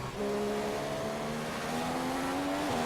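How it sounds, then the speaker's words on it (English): Race car engine in F1 2015 accelerating out of a corner at the British GP, a steady rising whine with the pitch climbing through the gear and a brief dip near the end, loud and close with no talk. "Accelerate off the corner horribly, actually."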